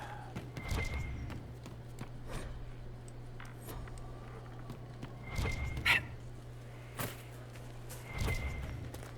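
Horse hooves clip-clopping in Dragon Age Inquisition, a run of faint, irregular hoof thuds over a steady low game hum, with a few louder steps spaced a few seconds apart.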